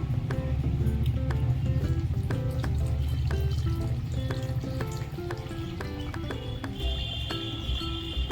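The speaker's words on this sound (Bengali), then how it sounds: "আমি এখন জল দিয়ে দিচ্ছি।" Water being poured into a pan of chicken curry, a steady close pouring and bubbling wash with irregular clinks and taps of utensils against the pan throughout, no voices.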